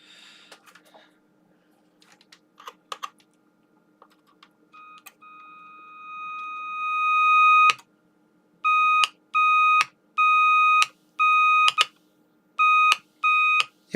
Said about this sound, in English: There's actually two different tones playing here. Yeah, it's two tones overlapped each other.